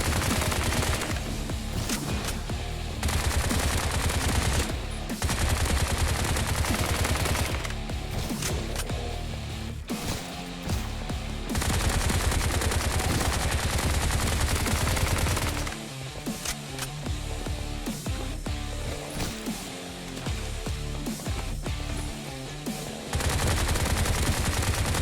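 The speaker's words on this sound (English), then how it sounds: "just start peppering them again with a machine gun" Rapid machine gun fire in the shooter video game Bright Memory, loud sustained bursts broken by brief pauses throughout, layered over dense game effects.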